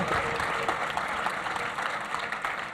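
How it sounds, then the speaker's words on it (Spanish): Audience applauding a speaker at a data and cloud technology talk, a dense steady patter of many hands clapping, fairly close and continuous throughout with no voices on top. "Aplausos, aplausos."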